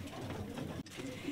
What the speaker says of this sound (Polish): już gołąbki tutaj lekki harmider robią, dostały teraz jedzenie.